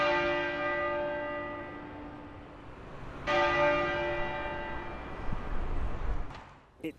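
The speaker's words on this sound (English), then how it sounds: "the bells were tolling, the tenor bell tolled" Tenor bell of Westminster Abbey tolling, two deep rich strikes a few seconds apart, each ringing out with long sustained harmonic hum that slowly decays, heard clearly with no talk.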